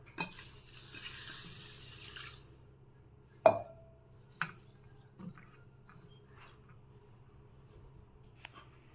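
Water is poured over basmati rice to soak it for a biryani-style coriander rice: a steady, soft pour lasting about two seconds, followed by a few sharp clinks and light taps of utensils in a quiet kitchen.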